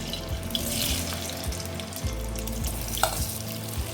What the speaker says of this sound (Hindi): ये देखिए, मैंने पलट के सोयाबीन को अच्छे से फ्राई कर लिए हैं